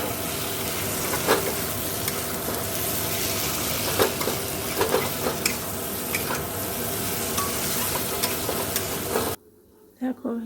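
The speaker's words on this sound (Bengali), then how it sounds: "তো এবার আমি মাছের ডিমগুলো দিয়ে কষে জল দিয়ে দেবো।" Fish roe fries in spice paste in a pan with loud, close sizzling and repeated scraping stirs, then cuts off sharply near the end, with no talking.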